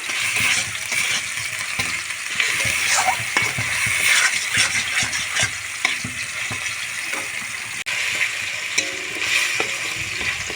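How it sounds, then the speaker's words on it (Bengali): Masala spices with salt, a little sugar, chilli powder and turmeric sautéing in a pan, a steady close sizzle with frequent scraping stir strokes and a few light metallic clinks throughout. "মশলাটা আমি খুব ভালো করে কষিয়ে নিচ্ছি"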